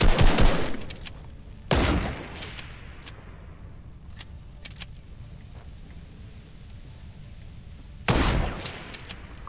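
Scattered gunshots from another player in Fortnite, with loud bursts near the start and a couple of sharp cracks later, plus faint clicks and quiet game ambience in between.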